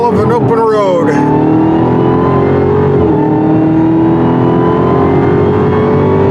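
A 2021 Dodge Charger Hellcat Redeye Widebody accelerates with a loud, continuous engine roar whose pitch climbs early, then settles into a steady drone, with a voice talking over it.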